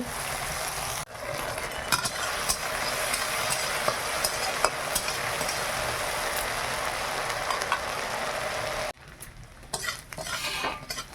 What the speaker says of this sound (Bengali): খুব সুন্দরভাবে ভাজা হয়ে গেছে এবার তুলে নে